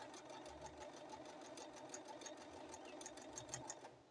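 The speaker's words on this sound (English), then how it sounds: "I'm just doing a test stitch here to make sure that I'm happy with the size of the buttonholes first" A sewing machine runs a steady, fast buttonhole test stitch, a rapid continuous whir with rhythmic needle ticking, heard alone and fairly faint throughout.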